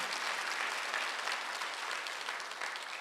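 A church congregation at a Sunday worship service claps together, a sustained, even roar of many hands at a steady level throughout, with no voices rising above it.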